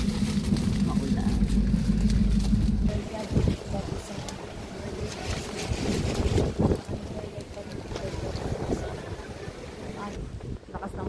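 Strong wind buffets the microphone on a rainy mountain hike up Mt. Pulag, roaring and gusting in uneven bursts while people talk nearby.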